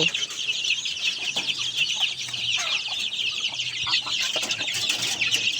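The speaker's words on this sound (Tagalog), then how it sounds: "mayroon din itong mga malaki-laki na sisiw" Chickens and chicks at a poultry farm cluck and peep continuously, a busy flock chattering nearby with steady high-pitched calls throughout.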